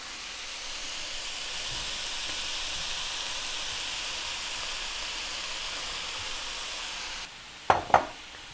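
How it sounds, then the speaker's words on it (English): Vegetable fried rice hisses steadily in a hot pan, a continuous close steamy sizzle, followed near the end by two sharp knocks of spatulas against the pan as it is stirred. "I like to use 2 spatulas to actually shake off our veggies. Mixing it evenly."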